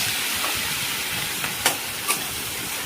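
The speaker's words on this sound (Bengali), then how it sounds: "পেঁয়াজটাকে একটু ভালো করে লাল করে ভেজে নিতে হবে।" Onion paste frying in a pan: a dense, close sizzle throughout, with a couple of brief scraping stirs near the end and no talking.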